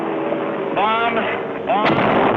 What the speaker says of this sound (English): Bombs.